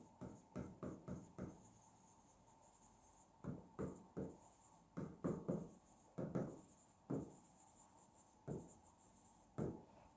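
Pen or chalk writing out lesson notes, a run of short scratchy strokes in irregular bursts with brief pauses, close and fairly quiet, no talking.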